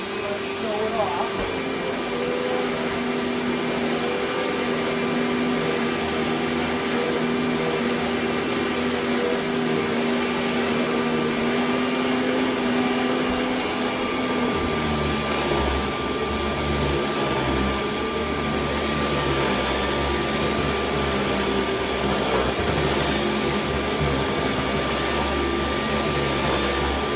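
Grey and yellow late-1980s Kenmore 3.9 Powermate canister vacuum runs as a continuous, close airy roar with a steady motor whine, its tone dropping and deepening about halfway through.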